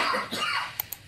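A short burst of coughing comes from a scene in a crime drama episode, with a rough throaty cough followed by two small sharp bursts, fairly faint and brief.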